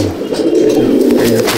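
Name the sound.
Madrasi pigeons cooing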